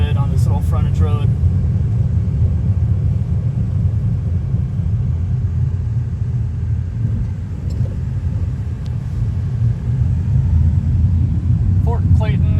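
A car rolls through a quiet residential neighborhood of former military housing at Fort Clayton along a small frontage road, with a steady low engine and road rumble that stays loud throughout and brief voices near the start and end.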